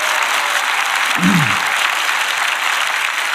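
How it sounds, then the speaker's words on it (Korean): Sustained applause from a church congregation, thick and even throughout, with one short vocal sound rising briefly above the clapping. "격려의 박수."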